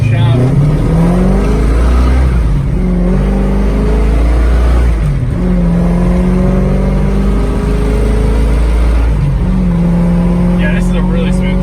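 A 1965 Ford Mustang Fastback engine revs hard and climbs through gears as it accelerates, loud and close with rising engine tones repeated in several pulls, heard from inside the car.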